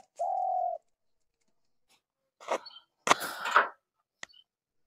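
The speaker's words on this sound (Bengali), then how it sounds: "চারিদিকে নানান রকম পাখির ভিন্ন ভিন্ন আওয়াজ।" Birds calling around a village in Barasat: a steady dove-like coo opens, then after a pause come scattered bursts of chirps and tweets, and a final brief peep, all fairly close and without talk.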